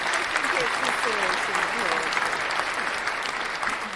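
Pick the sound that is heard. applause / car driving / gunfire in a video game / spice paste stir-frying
applause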